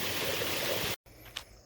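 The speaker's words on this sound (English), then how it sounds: "Oh, it's a creek." A creek flowing beside a pond in Woodward, PA, with a steady, close rushing of water that cuts off abruptly, followed by quieter outdoor ambience.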